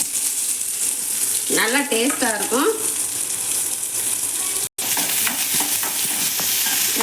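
Chopped onion fries in hot oil with cumin seeds and is stirred now and then, giving a steady sizzle with scraping. Someone speaks briefly over it.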